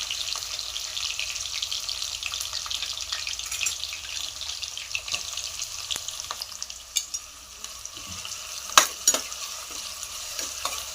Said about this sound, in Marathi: त्याच्यानंतर आपल्याला कांदा टाकायचा आहे